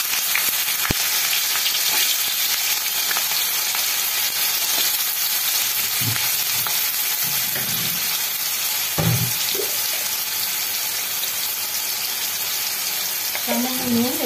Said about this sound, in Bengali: এবার আমি প্রথমে আলুগুলোকে ভেজে নেব।